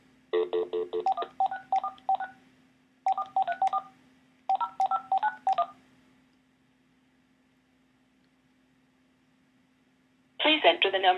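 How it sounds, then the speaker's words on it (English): Touch-tone phone keypad dialed on an old-fashioned landline, producing three quick bursts of DTMF beeps over a steady low hum, then a pause before a recorded voice prompt starts speaking. "I can actually make a phone call and use my touchtone keypad to vote for these different categories."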